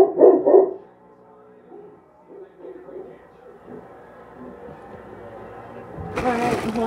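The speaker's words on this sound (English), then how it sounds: "He's barking." A dog barks a few times in quick succession at the start, then fades to quiet room sound before a louder rustle near the end.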